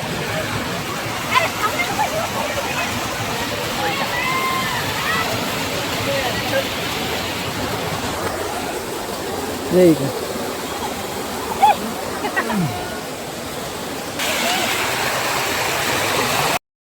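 Bhaje waterfall near the Bhaje caves rushes in a loud, continuous roar close by, with brief splashes and occasional voices of people talking over the flow.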